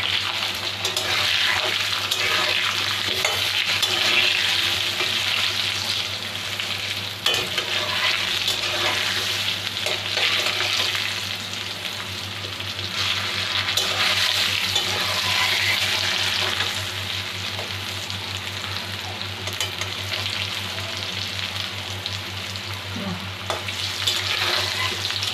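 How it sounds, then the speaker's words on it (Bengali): Large potato pieces fry in hot oil for mutton curry, a loud, dense, unbroken sizzle held close throughout with faint stirring beneath. "আমার আলুটা ভাজি হয়ে গেছে"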